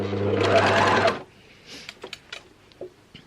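A sewing machine stitches a trouser waistband in a short, fast, steady burst lasting about a second, then stops, leaving faint handling clicks and rustles.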